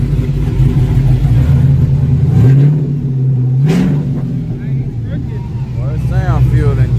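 A Chevrolet Monte Carlo with a freshly installed motor idles loud and close, its engine rising in a short rev before settling back, with people talking over the steady rumble.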